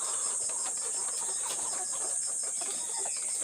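Layer chickens around sixteen weeks old clucking in a flock, a steady chorus of soft overlapping clucks with a constant high-pitched hiss behind them, heard alone without talk.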